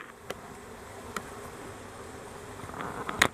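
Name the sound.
honey bees buzzing on a brood frame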